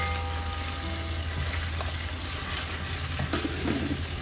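Rice and pork chops, Puerto Rican chuletas can can, fry together in a pan, producing a loud, continuous, close sizzle that crackles steadily without pause and with no voices over it.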